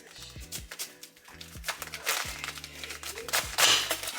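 A knife cuts the hard, fibrous core out of a head of cabbage, making a run of close, crunchy cracks and crisp crinkling bursts. The bursts grow louder toward the end, over a low background hum.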